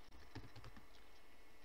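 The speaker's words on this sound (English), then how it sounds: "Then in the first part, I will type resume." Keys clatter on a computer keyboard while a Word document is being typed: a short, quiet burst of several soft, quick keystrokes, with no talking.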